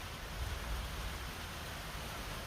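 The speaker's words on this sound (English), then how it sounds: "it is raining directly over top of my house." Rain falls over a house under otherwise blue skies, a faint, even hiss of steady drizzle with no other sounds.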